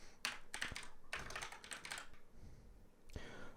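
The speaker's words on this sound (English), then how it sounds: "we're gonna want to type in this command here" Typing on a computer keyboard: a few quick bursts of clicky keystrokes with short pauses between, close but fairly quiet, no voices.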